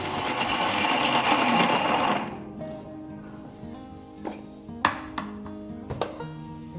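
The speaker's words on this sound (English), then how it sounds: "I'm going to run my mixer jar." Mixer grinder jar blending soaked almonds into a paste, a loud steady whirring roar for about two seconds that then stops, followed by quieter clinks and knocks of the jar.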